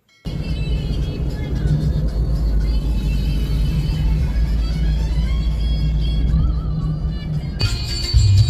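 A car engine rumbles steadily and loudly nearby for several seconds, with a shift in the sound near the end as the vehicle comes closer or stops.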